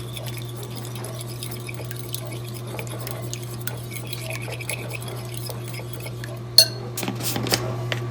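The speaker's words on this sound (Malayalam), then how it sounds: "ഇനി നമുക്കിത് മിക്സ് ചെയ്ത് കൊടുക്കാം." Chicken being mixed with spices in a bowl, steady soft clinks and scrapes under a low constant hum, ending with a few sharper metallic clatters near the close.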